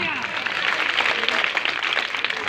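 An audience at an NCC Day celebration claps loudly during a comic stage play about an illiterate politician, a dense, continuous wash of applause with voices mixed in underneath.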